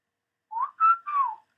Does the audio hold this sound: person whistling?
yes